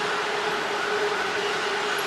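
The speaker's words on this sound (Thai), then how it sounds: "ให้รถพยาบาลไปก่อน" An ambulance siren wails steadily through heavy traffic in Thailand, a loud continuous tone over broad road rumble, with no talking.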